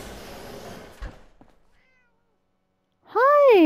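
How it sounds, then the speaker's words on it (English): A cat in the Fallout 4 video game gives one clear, loud, drawn-out meow near the end, after a stretch of faint shuffling and then near silence. "Hi kitty. You're so cute."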